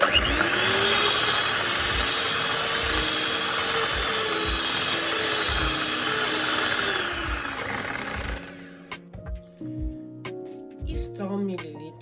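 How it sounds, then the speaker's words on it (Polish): Electric hand mixer beating cake batter for Spanish magdalenas after melted butter is added, a loud steady whirring drone for about eight seconds that cuts off, followed by quieter clatter and faint talk. "Miksuję."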